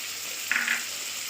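Spices for an egg curry sauté in a pan with a steady, faint sizzle. A brief stir or scrape briefly lifts the sound, and no one speaks.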